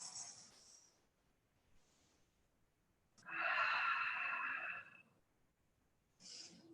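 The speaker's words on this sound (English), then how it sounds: "Breathe 3 deep inhales and exhales." Deep yoga breaths, soft slow inhales and exhales close to the ear, one long strong airy exhale in the middle and fainter breaths around it, quiet pauses between.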